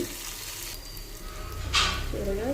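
Curry leaves crackle and sizzle in hot oil as tempering for jowar rava katte pongali, a steady close frying hiss with a brief sharper spit midway.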